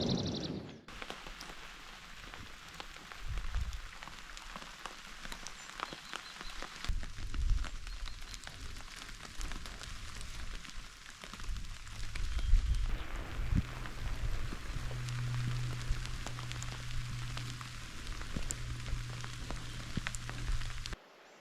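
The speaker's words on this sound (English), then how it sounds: "As you probably noticed, we had some rain there at camp." Rain falls on a campsite at Upper Scorpion Campground on Santa Cruz Island, a steady dense patter with occasional louder drops and low rumbling bumps throughout, and no voices.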